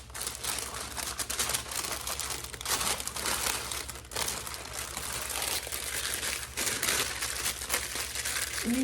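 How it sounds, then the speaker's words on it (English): Wax paper crinkles and rustles continuously as it is handled and laid over pie dough for a pear mincemeat pie, close and fairly loud, with no speech. "So I'll just put the wax paper on top of our pie dough"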